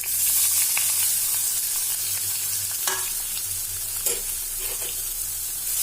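Two dried red chillies and curry leaves sizzle and crackle in hot oil, close and steady, with a few sharp pops and scraping stirs and no voices.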